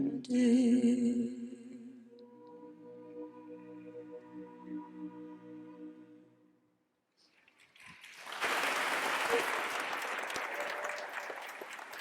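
Audience applause at a university presidential inauguration ceremony, a steady broadband burst arriving after music fades and a brief pause, sustained and fairly loud through the end.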